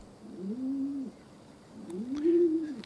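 Racing pigeons cooing around their loft, two soft, drawn-out low coos a moment apart, close by and alone, with faint outdoor background.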